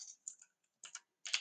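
Python code is typed on a computer keyboard in quick bursts of light key clicks, three short clusters separated by brief pauses, close and quiet with no voices.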